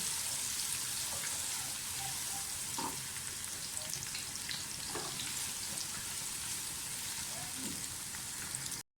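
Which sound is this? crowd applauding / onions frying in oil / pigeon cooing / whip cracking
onions frying in oil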